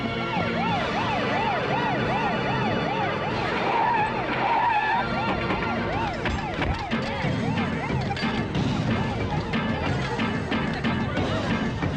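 An ambulance siren in a film scene wails loudly with a steady rise-and-fall pattern, layered over busy vehicle and traffic noise that grows denser toward the end.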